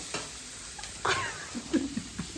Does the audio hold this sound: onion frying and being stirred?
yes